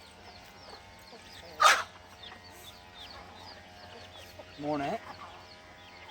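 Farm chickens clucking, newly bought hens, with a sharp squawk near the start and a louder cluck burst later, over a quiet background while a person speaks a few words nearby.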